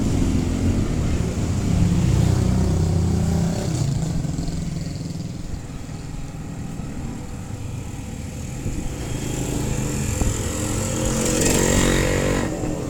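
Engines of cars and motorcycles pass along a partly blocked street near a market in Pandacan, Manila, rising and fading in waves over steady city background noise, with faint voices around.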